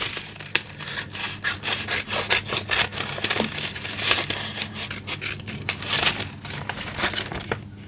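Scissors cut open a paper shaker pocket made from junk materials, giving a close, rhythmic series of crisp snipping and rustling strokes that continues for several seconds with no talking.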